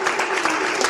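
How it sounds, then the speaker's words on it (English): Live audience applause at a podcast taping, a dense steady burst of clapping that fills the whole moment at full volume with no voice over it. "And so give yourselves a round of applause."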